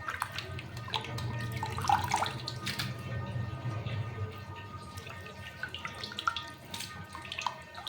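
A kitchen tap runs steadily as raw meat and fat are rinsed under it, a moderate close splashing and trickling with occasional drips and clatter, and no clear talk over it.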